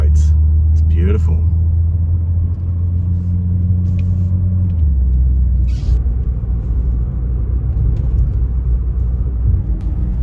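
A 1990s-era Mercedes-Benz W124 300E 2.6 engine hums low and steady while cruising, a smooth continuous rumble with faint road noise throughout.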